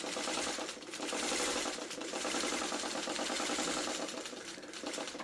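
A sewing machine runs steadily, stitching a stay seam along the edge of a Birds in the Air quilt block, with a rapid even mechanical whir and needle clatter, fairly loud and close, without pause or talk.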